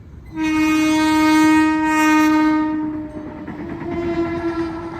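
An AC train blasts a long, loud horn as it passes on the tracks, then the horn sounds again more faintly over rolling wheel noise.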